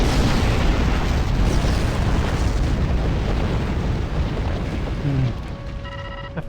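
Plasma torpedo explosions in Star Trek Online space combat boom in a heavy, continuous barrage of blasts that fills the clip, then thins near the end as a few brief electronic tones sound.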